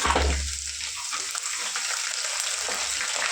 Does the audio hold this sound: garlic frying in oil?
yes